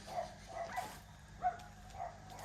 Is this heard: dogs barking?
yes